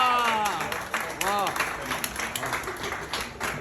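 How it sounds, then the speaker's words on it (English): An audience at an event honoring a Brampton mayor breaks into applause, a scattered wash of clapping that follows a voice and continues under it at moderate distance. "Big round of applause for me and Nadeem bhai."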